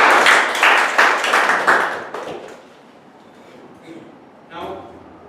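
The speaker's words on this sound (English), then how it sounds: "let us give Toastmaster Sulfikar Ali a big round of applause" An audience at a Toastmasters meeting gives a short round of applause. Claps ring out strongly at first, then thin out and fade as a voice starts to speak.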